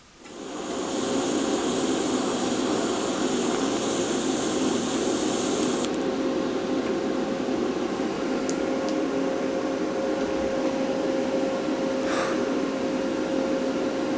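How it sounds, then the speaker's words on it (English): TIG welding on a steel welding cart: a steady, continuous hiss and buzz from the torch runs unbroken for about fourteen seconds and grows slightly softer and duller partway through, with no voices. "We're going to weld that right there."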